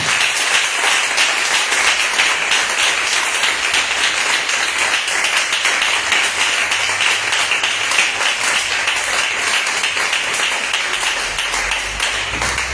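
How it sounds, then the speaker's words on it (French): A church congregation at a Thursday service in Libreville applauding loudly, dense sustained clapping from many hands that continues steadily throughout and eases slightly near the end. "On acclame très fort pour la gloire de Dieu"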